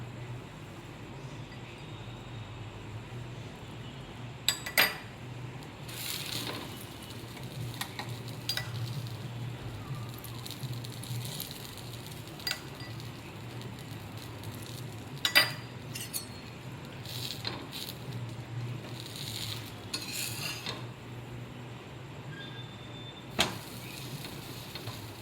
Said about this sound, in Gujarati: અને હવે એને લોઢી પર સરસ રીતે શેકી લેવાનું છે. મેં ઘી લીધેલું છે